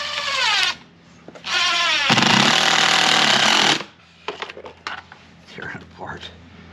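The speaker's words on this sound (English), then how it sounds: "Putting extra long screws here." A power drill drives extra-long screws into a wind-damaged door closer, two short whirring bursts followed by a longer loud run, then quieter clicks and handling noises.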